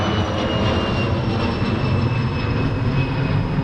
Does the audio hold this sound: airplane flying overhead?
yes